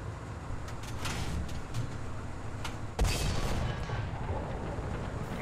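A T-34 tank fires its cannon in War Thunder: a single heavy boom lands midway over a steady engine rumble, with faint distant shots earlier.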